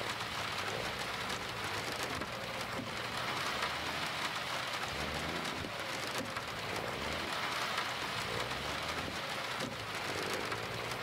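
Steady rain falls throughout a trucking session in the video game Grand Truck Simulator 2, a continuous dense hiss with faint low rumbles of possible distant thunder underneath and no talk.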